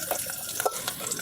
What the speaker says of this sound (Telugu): ఈ ఉల్లిపాయలు మిరపకాయలు అయితే కొద్దిగా వేగేదాకా ఇలాగ కలుపుకోవాలి